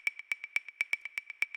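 An untuned tonal wood block sample, pitched slightly off key from D, plays a quick, even pattern of crisp, hollow knocks alternating strong and softer hits. It is brief and close, with no voices.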